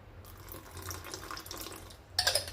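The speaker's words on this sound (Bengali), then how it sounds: "এটার মধ্যে এবার আরেকটু জল দিয়ে দিতে হবে।" Water runs from a tap into a cooking pot in a home kitchen, a steady soft stream with a brighter splashing rise near the end, close and without talk.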